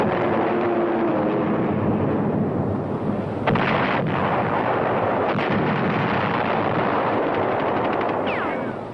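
Relentless artillery fire from an air and naval barrage at Iwo Jima, a dense continuous roar of overlapping blasts and gunfire with sharper cracks cutting through, loud and unbroken throughout.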